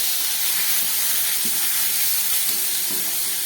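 Small chuno fish sizzling in a hot pan beside potato and onion, a steady broad frying hiss throughout with a few faint clinks from stirring.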